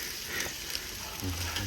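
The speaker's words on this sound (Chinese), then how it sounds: "这一锅给它煎狠一点，更好吃" Squid pieces frying with Laoganma chili sauce in a pan, giving a steady close sizzle with faint scraping stirs and a low hum near the end.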